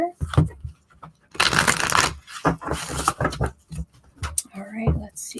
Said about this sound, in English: They want one more shuffle here.